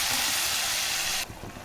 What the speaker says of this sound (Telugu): ఏవైతే మిక్సీ ఆడుకున్నామో అల్లం, కొత్తిమీర, పచ్చిమిరపకాయలు ఆ పేస్ట్ కూడా వేసుకుంటున్నాను